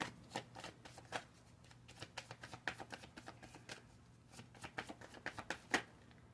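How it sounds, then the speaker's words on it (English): A deck of Moonology oracle cards being shuffled by hand, giving repeated crisp riffling and flicking bursts in an irregular rhythm, close and fairly quiet, with no voices. "I'm going to pull from the Moonology deck here, one card for you"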